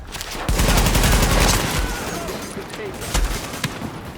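Gunfire in the video game Tom Clancy's The Division: loud, dense bursts of shots and booming impacts that carry on through most of the few seconds, with short dips between volleys.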